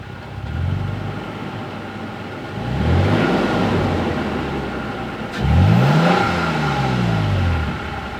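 A Toyota Tacoma with a high clearance exhaust revs twice, each sharp rise in engine pitch easing back down over a steady idle, close and loud with no talking.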